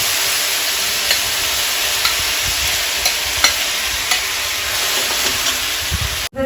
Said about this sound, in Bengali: সেগুলো সরষে দিয়ে ফোড়ন দিয়েছি।